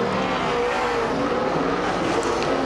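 Super sedan race cars roar around a dirt track during a series race, engines loud and continuous at close range, with a steady droning blend of several motors.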